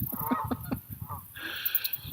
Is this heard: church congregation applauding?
no